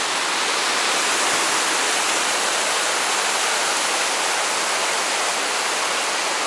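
A river waterfall roars in a continuous, dense broadband rush, loud and steady throughout with no voices.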